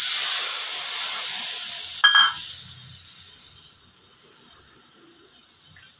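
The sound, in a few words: water poured into hot fried spice masala, sizzling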